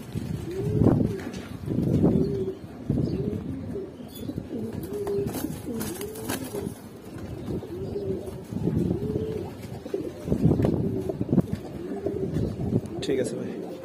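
Pigeons of fancy breeds such as Jhuma Pankhi, red-eyed Hammer and Super Mili kept for sale coo repeatedly in soft, rolling bursts close by, with someone speaking over them throughout.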